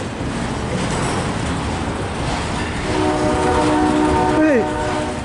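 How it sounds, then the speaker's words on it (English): A long CSX freight train rumbles through a crossing at Fostoria, Ohio, with a continuous rolling roar and a loud multi-tone horn that sounds midway and then bends down in pitch. "This train is so long."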